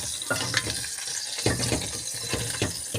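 Lamb pieces coated in curry powder are stirred and tossed in a pot, with scraping strokes and a steady sizzle running through the short stretch and no talk.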